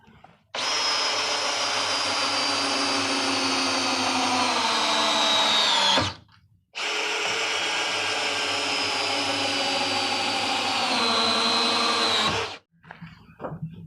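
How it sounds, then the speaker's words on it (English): A power drill drives very large screws through 2x4 lumber into 2x6 boards for a wooden truck bed, two long steady whining runs of about six seconds each with a short pause between, loud and close, no talking. "you're gonna take some really big screws, the biggest you can find, and you're gonna go straight through those 2x4s into the 2x6s."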